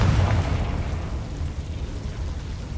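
A Confringo blasting spell explodes in the Hogwarts Legacy video game as one low, rumbling blast that fades steadily over a few seconds.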